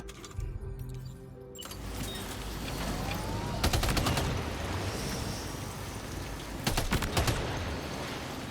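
Gunfire aimed at floating BT jellyfish in Death Stranding 2, short clusters of sharp shots over a steady rumbling background, with a longer burst midway and another near the end.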